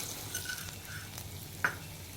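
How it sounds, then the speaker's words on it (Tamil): Urad dal fries in oil in a kadai, giving a soft, faint sizzle with light stirring scrapes and one brief sharp clink near the end. "இங்கே பாருங்கள், எண்ணெய் ஊற்றிட்டேன். இப்போது உளுத்தம்பருப்பு போடுறேன்."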